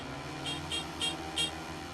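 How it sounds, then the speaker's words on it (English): A racing vehicle's horn honks in celebration with four short, evenly spaced toots over a steady background hum, clear and fairly loud. "And honks in celebration."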